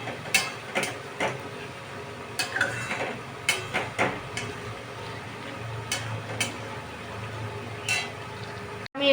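Chicken masala being sautéed in a pan, with intermittent scraping and clinking strokes of a spatula over a low, steady frying hiss, and no one speaking.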